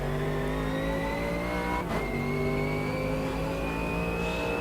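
A V8 GT3 race car in Automobilista 2 at Bathurst roars at high revs throughout, with one brief upshift dip before the pitch climbs again, a loud, continuous onboard engine note with faint tyre noise.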